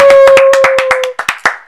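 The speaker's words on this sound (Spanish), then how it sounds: "Un aplauso para él." A few people clap for a contestant in a guess-the-song game, a quick burst of sharp, close, separate claps over a steady tone that cuts out, ending in a handful of louder slaps.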